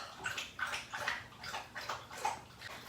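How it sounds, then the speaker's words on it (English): A dog laps water from a bowl in quick, rhythmic wet slurps, close and fairly quiet, with no talking. "That noise is Buddy drinking water."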